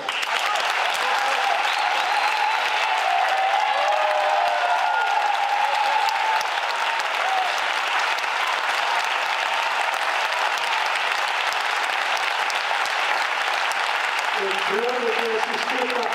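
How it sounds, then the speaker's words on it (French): A theatre audience applauds the director who staged the show, steady dense clapping filling the room throughout, with a voice briefly heard near the end. "Je vais quand même vous demander d'applaudir celui qui a mis en scène ce spectacle"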